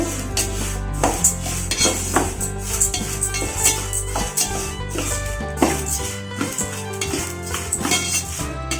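Jowar and peanuts roasting in a pan, with repeated scraping and clinking of a ladle against the metal over a faint sizzle, in an irregular stirring rhythm close up.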